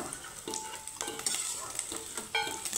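Fish roe fritters fry in hot oil with a soft continuous sizzle, punctuated by scraping stirs and light utensil clicks against the pan, fairly quiet and close.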